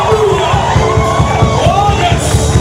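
A church congregation at a service in Brescia cheers and acclaims God, a dense, loud wash of shouts and whoops with voices overlapping throughout.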